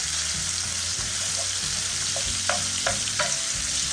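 Crumbled sausage meat fries in a pan with a soft, steady sizzle, broken by several sharp spatula scrapes and taps near the end; quiet and close, with no talking.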